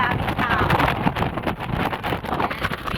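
Strong wind buffeting the microphone on the crowded Sky Terrace at the Peak in Hong Kong, a rough, continuous roar, loud and close, with faint crowd murmur underneath.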